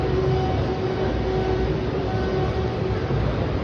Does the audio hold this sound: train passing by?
yes